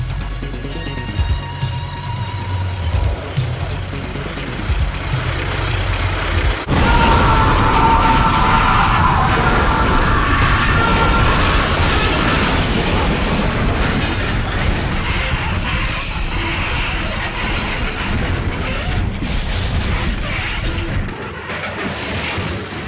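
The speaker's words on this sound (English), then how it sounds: "he and his train flew off a curve at 100 miles an hour" Movie-effect train taking a curve at high speed and derailing: loud, continuous wheel squeal and rumbling rail noise, with a sudden heavy burst partway through and a harsh, sustained grinding roar after it.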